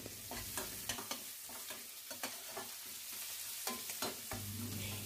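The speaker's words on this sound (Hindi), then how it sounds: "अब मैं इसमें छोटे कटे हुए प्याज डालूंगी" Small chopped onions frying with browned garlic in a pan give a soft, continuous sizzle, broken by a regular series of scraping stirs from a utensil. The sound is fairly quiet and no one speaks.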